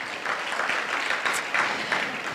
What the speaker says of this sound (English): Please give the orchestra another round of applause as I call their names.